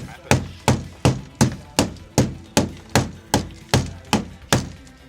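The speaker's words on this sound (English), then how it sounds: "You just get a hammer and you just tap it." A hammer taps off the old factory coating on the floor pans of a 1968 Jaguar 420G under restoration, making about a dozen sharp, evenly spaced knocks up close.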